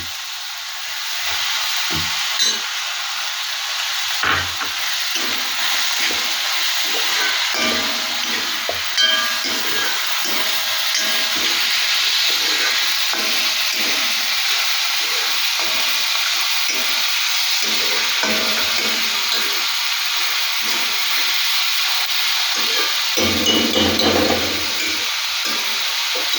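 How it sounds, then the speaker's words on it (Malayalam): Chopped tomatoes frying in a pan for a spicy fresh clam roast give a steady, loud sizzle and hiss throughout, with faint stirring scrapes and no talking. "ഇനി നമുക്ക് തക്കാളി ഇടാം."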